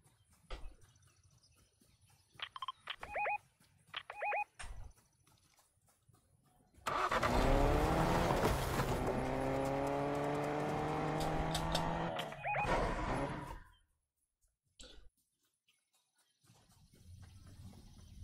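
A car engine in the video game Fortnite revs loudly for about five seconds, its pitch sweeping up and down, then cuts off; faint clicks and game sounds come before and after.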